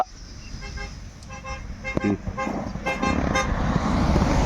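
Car horn toots several times on a road, with an engine passing close by and traffic noise building, while a person talks in the background.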